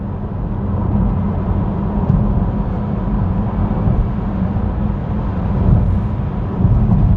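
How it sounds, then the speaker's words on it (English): A 2024 Renault Megane E-Tech electric car driving along a country road, with a steady low rumble of motor and road noise filling the cabin, swelling slightly at moments, and no talking. "You hear quite a bit of motor noise actually"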